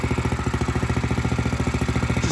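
A cadet kart's small engine, fitted without its large exhaust, idles steadily close by with a fast, even pulsing beat and no other sounds.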